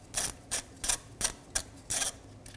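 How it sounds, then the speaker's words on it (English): Ratchet with a T25 Torx bit backing out an ABS sensor screw on a 2014-2023 Ford Transit Connect rear hub, giving six sharp clicking bursts in a steady rhythm, close and alone. "I'll be using a T25 torque bit and a ratchet."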